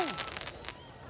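Victoria Day fireworks at Linus Park in North York, Toronto: a brief descending whistle gives way to a string of quick, crackling bursts, fairly faint and distant, fading out within a second.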